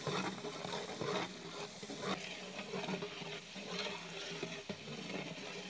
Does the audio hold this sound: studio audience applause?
no